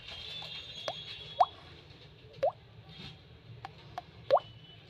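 A human voice imitates water dripping from a tap, making five or six distinct hollow plopping drops at an uneven, unhurried pace, each clear and close against a faint background.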